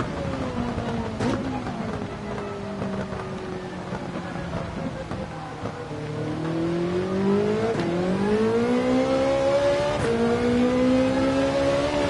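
A race car engine in Gran Turismo 7 at Spa, droning steadily, then revving upward in pitch as it accelerates through the gears, loud and continuous with no speech.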